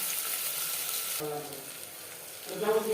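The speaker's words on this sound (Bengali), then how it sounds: "পেঁয়াজ হালকা করে ভেজে নেব" Onions fry lightly in oil for an aloo mutton curry, giving a steady soft sizzle throughout, with a few faint clinks or stirring sounds toward the end.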